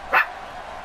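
A single short dog bark in a home, one sharp yip early on, then a quiet room tone.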